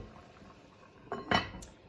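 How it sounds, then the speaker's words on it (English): A lid set onto a pot of boiling squash and red lentil curry gives two quick metallic clanks over a soft bubbling background. "So now I'm going to put the lid on."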